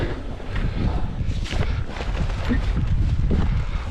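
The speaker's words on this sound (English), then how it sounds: "So the wind is howling." Wind howling across a frozen lake during ice fishing, at about 15 to 20 miles per hour: steady, heavy buffeting rumble against the microphone throughout.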